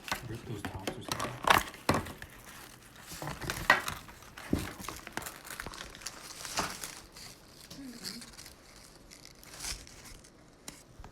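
Plastic tops on takeout containers from a dumpling restaurant are ripped open close by. Irregular bursts of crinkling and tearing come and go over muffled background voices.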